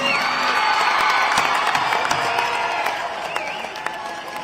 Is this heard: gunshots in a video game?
no